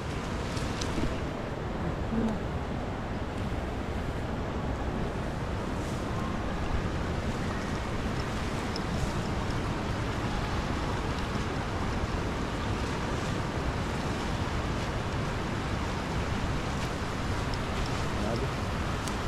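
A continuous rushing roar of a fast, strong river current, dense and unbroken, with faint voices occasionally audible beneath it, in Taiwan.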